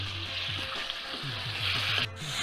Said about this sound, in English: The mutton has started changing color and I need to stir it continuously.